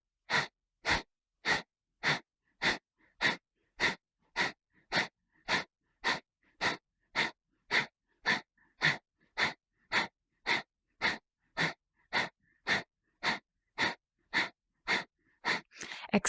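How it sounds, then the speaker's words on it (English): Kapalabhati yoga breathing: a steady series of about two dozen sharp, forceful exhales pushed through the nose, evenly spaced roughly every two-thirds of a second, close and clear in a quiet room. "let's begin 20 rounds of Kapalabhati"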